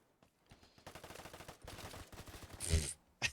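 PPSh submachine gun fire in a video game, bursts of rapid shots with a loud peak near the end, cut by brief gaps.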